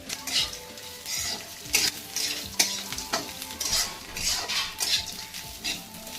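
Coconut, onion, garlic and roasted gram are dry-roasted in a pan for a village-style chicken masala, with a spoon scraping and clinking against the metal in irregular strokes over a soft, continuous sizzle, close and clear.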